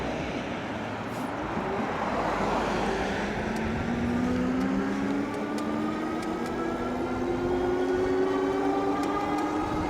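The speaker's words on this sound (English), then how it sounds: "Now I'm just going to use the twist throttle." Electric bike on twist throttle only, the Eclio F02 motor whining as it accelerates, its rising tones climbing steadily under loud, continuous wind rush.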